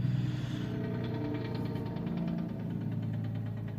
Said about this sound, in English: I have a horrible exhaust in my car, and these trucks just naturally have loud exhaust